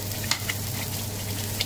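Vegetables sautéing in a pan for a desi pasta, a steady close sizzle and frying crackle with a few brief scraping or stirring accents, no voices.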